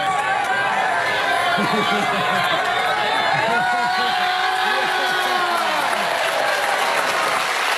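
A baseball game crowd roars steadily throughout, a dense wash of cheering, applause and chatter that stays loud and unbroken from start to finish, with individual voices rising out of the mass.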